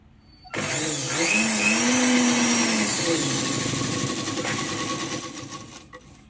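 A sewing machine stitches a petticoat hem folded at half an inch, starting abruptly and then whirring in one continuous, close, steady run for about five seconds before it stops.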